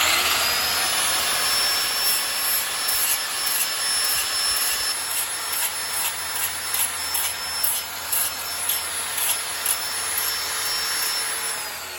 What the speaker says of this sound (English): we're just going to lightly kind of brush across this to remove the coating, because you don't want to actually grind a whole lot of the material off